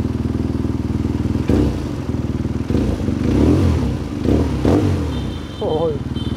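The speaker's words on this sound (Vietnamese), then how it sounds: "thì đó là cái âm thanh của chiếc BMW R90 Scrambler phiên bản kỷ niệm 100 năm" BMW R nineT 100 Year Edition motorcycle fitted with an Akrapovic exhaust, idling with a pulsing throb and then blipped in several sharp revs. A voice talks briefly over it.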